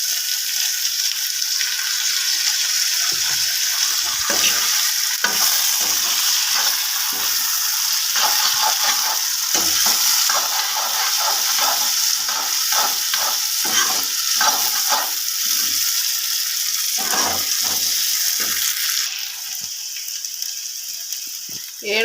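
Potatoes sizzle and fry in a pan over a steady hiss, while repeated scraping and stirring strokes clatter rhythmically through most of it.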